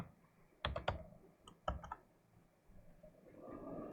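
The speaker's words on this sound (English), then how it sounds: "And it helps if I type binwalk." Typing on a computer keyboard during firmware analysis work, heard as two short bursts of close, crisp key clicks separated by a pause, with quieter room noise rising toward the end.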